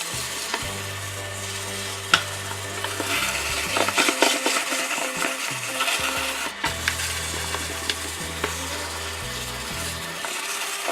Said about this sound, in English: This is a 1200 grit, and I'm going nice and slow,